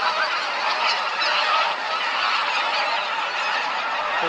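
A flock of white-fronted geese calls in a dense, continuous chorus of overlapping honks, steady and fairly loud throughout, with no individual bird standing out.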